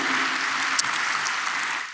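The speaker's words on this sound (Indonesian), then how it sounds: "berikan tepuk tangan kita untuk Tuhan kita" A church congregation breaks into applause, a steady wash of clapping that fills the short moment from start to finish, with no voices on top.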